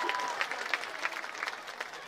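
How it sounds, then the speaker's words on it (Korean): Crowd applause for the mayor at an outdoor Osan Citizens' Day festival, a broad distant wash of clapping with a few louder claps, fairly faint overall. "오산 시장님한테 큰 박수 한번 부탁드리겠습니다"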